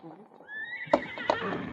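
Blackie the horse whinnies loudly and nearby with a rising cry, followed by two sharp stamping hoof thuds, in a vintage radio drama set in the Yukon.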